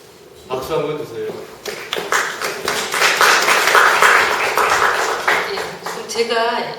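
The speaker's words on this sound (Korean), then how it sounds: "박수 한번 주세요" An audience applauds at a poetry talk concert with a poet, a dense, steady burst of clapping lasting several seconds, with a voice speaking briefly just before it begins and again as it fades.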